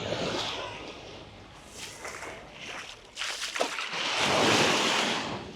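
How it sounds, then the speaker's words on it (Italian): Sea surf on the free public beach of Saline dei Monaci in Salento, with the salt pans behind, on an August day; waves rush and wash steadily close by, swelling louder toward the end under buffeting wind. "questo è il mare."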